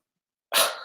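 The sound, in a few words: dog barking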